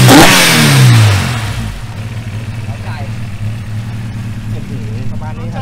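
A Spoon-tuned Honda engine revs close and loud in a rising burst, then drops to a rough, throbbing idle that rumbles steadily while people talk nearby.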